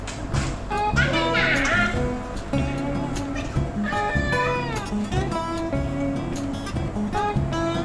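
A cat meows over a background of music and ambient noise, with a clear meow early on and fainter cries later.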